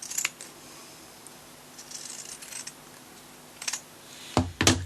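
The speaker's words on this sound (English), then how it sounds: "So I just trim all the way around the edge." Scissors trim the fabric edge of a kitchen towel close to the stitching, giving soft intermittent snips and rustles, then a couple of louder clicks near the end, close and quiet.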